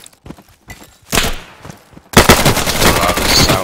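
Gunfire in the tactical shooter Insurgency, including shots from a sniper: sparse clicks and thumps give way to a loud burst, then a sustained barrage of rapid shots close by.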